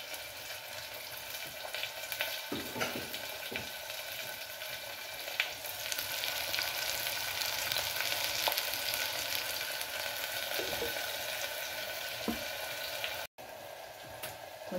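Onions and green chillies frying in hot oil for a mutton curry with ridge gourd, giving a steady close sizzle with occasional stirring clatters throughout.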